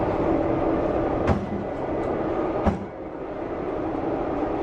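A moving subway train gives a steady, loud rumble and rattle, broken by two sharp clanks about a second and a half apart, with no voices.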